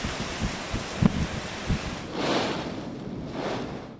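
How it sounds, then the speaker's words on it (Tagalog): Super Typhoon Nando's 205 km/h winds howl over Santa Ana, Cagayan, a steady roaring rush with two broad surging gusts swelling in the second half, loud and continuous with scattered low thumps earlier. "Mabangis at tila umaalulong ang hangin sa Santa Ana, Cagayan kagabi."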